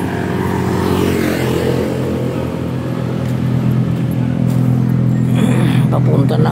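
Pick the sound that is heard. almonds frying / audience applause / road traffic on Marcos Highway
road traffic on Marcos Highway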